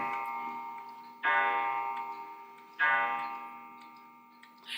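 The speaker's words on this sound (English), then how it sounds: "Clock's gonna go." A clock ticking indoors in a quiet room, with two sharper, louder strikes about a second and a half apart standing out over a steady faint background hum; no one talks.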